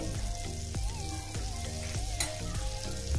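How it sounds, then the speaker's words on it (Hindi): Butter sizzles on the hot plates of a sandwich maker, a close, steady frying hiss with faint crackle throughout and no voices. "अब हम सैंडविच मेकर में इसे टोस्ट करने वाले हैं। पहले हम इसमें बटर अप्लाई करेंगे,"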